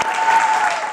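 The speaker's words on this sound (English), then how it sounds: "Clap it up, Jeremy." Short burst of applause during a weekly fitness competition recap show, a steady wash of clapping lasting about a second, close and fairly loud throughout.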